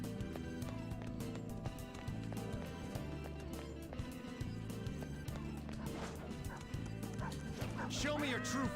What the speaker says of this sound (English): I gotta fight that dog thing again